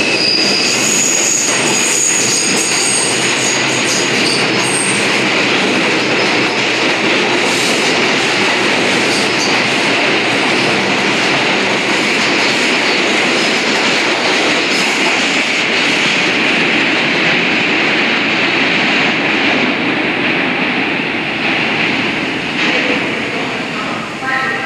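A New York City subway 2 train heading toward Flatbush Avenue–Brooklyn College roars past loudly and continuously for the whole stretch, with rumbling wheels, clattering rail joints and steady high screeching, heard close up.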